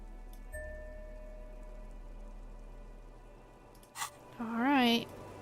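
Rain in the Disco Elysium video game, a soft steady patter of falling rain in the background, with a brief tone and a rising melodic sound over it toward the end.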